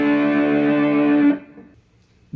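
Slide guitar lick played on the middle two strings, a sustained gliding tone with distortion and effects ringing alone for over a second before cutting off into near silence.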